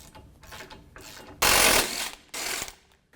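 A ratchet wrench working 18 mm nuts off a truck's lower strut and A-arm during a lift kit install, a few short mechanical bursts of rapid clicking, loud and close, with quieter ratcheting between.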